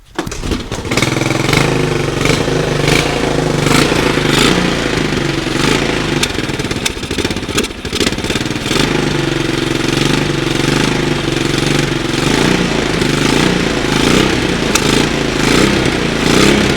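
A Honda ATC engine cranks and catches after a cleaned carburetor is refitted, then runs loudly and roughly without pause, a steady rattling roar close to the microphone.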